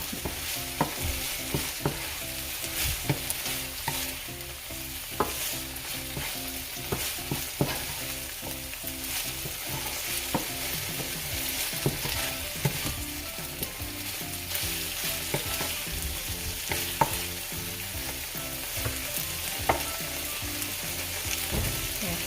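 Steady, loud sizzling from a small frying pan as pancit canton noodles are stir-fried, with scraping and stirring clatter throughout, no voices.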